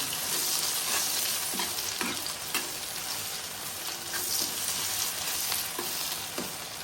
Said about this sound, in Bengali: এটা একটু নেড়ে চেড়ে দিই।